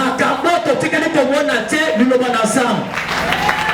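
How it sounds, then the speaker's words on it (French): A church congregation at a Thursday service claps and cheers, with loud voices and singing-like shouts running over continuous applause throughout. "Acclamez plus fort, plus fort, plus fort"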